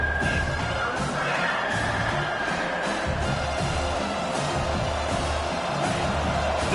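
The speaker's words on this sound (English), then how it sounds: "Decibels rising as the crowd gets behind this defense on third down." Football stadium crowd roars steadily behind the defense on third down, a dense, continuous wash of cheering and noise that holds constant for the whole stretch with no clear voices standing out.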